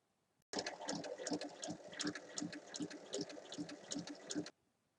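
Sewing machine stitching a round fabric pouch, a rapid rhythmic mechanical chatter that starts abruptly, runs steadily for about four seconds, then stops.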